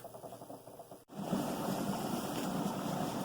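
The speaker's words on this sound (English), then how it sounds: "That's definitely a rolling boil there." Water at a full rolling boil in a canner, heard as a steady dense bubbling roar that swells in after a brief quiet moment and continues loud and close.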